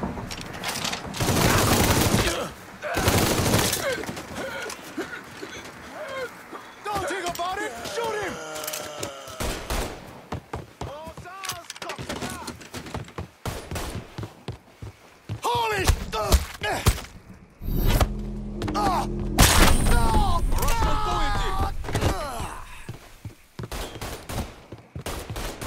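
Gunfire in the video game Mafia III, with bursts of shots and heavy impacts recurring throughout amid music and clutter, loud and close, mixed with game dialogue and voices.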